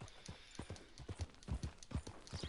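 Horse hooves in the Red Dead Redemption 2 video game clop in an uneven, shuffling rhythm on the ground, moderately close but fairly quiet, with no other clear sounds.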